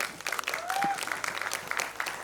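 A quiz-competition audience claps in a fairly quiet, even patter of applause, with a brief rising whistle-like tone near the start.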